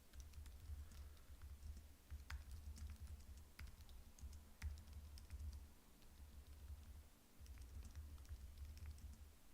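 Quick, irregular tapping on a computer keyboard, soft and close, with bursts of keystrokes and brief pauses under a low steady hum.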